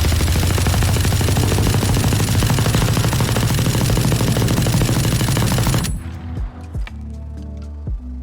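Hip fire from the Ares gun in a video game: a loud, rapid, continuous burst of automatic gunfire for about six seconds, then it stops, leaving a few faint clinks and a low ringing tail.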